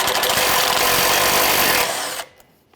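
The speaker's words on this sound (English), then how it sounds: "Remove this 10mm bolt." Power tool spins out a 10mm bolt beneath the bumper of a 2009-2015 Honda Pilot during A/C condenser replacement, a loud, steady whirring burst lasting about two seconds before cutting off.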